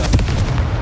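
A Confringo spell blast in the video game Hogwarts Legacy: a loud, booming burst with a heavy low rumble, peaking sharply near the start and then sustaining as a rough, noisy roar through the short moment.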